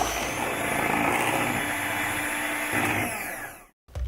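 An electric mixer whirs steadily through cake batter for an apple praline bundt cake, a loud even drone that stops abruptly near the end before briefly restarting.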